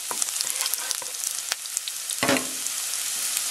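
Garlic sautés in hot cooking oil with a bright, crackling sizzle, broken by sharp pops and a brief surge of frying noise midway as it is stirred.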